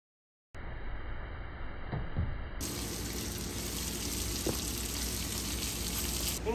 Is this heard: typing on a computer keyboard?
no